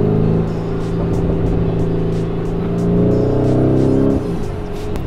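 Engine of an exclusive, rare yellow car roaring while driving, a loud steady droning growl with rising revs that drops off abruptly near the end as the throttle lifts, heard from inside the cabin.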